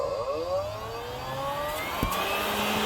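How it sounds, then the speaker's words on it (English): The built-in vacuum cleaner of a 2021 Honda Odyssey running inside the minivan, a steady whining motor hum with rising tonal pitch, close and continuous, with no speech. "You got a lot of suction here too. Cleans up any sort of messes you might have, hopefully."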